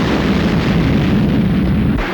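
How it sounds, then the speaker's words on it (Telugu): Bomb explosions in a Telugu movie scene: one loud, continuous booming rumble of blasts that fills the whole moment without a break. "అమ్మో, ఇంకెన్ని బాంబులు వెళ్తాయో"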